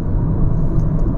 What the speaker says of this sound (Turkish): sonuçta bu ekonomik bir araç olduğundan dolayı lastik sesini illaki içeri alıyor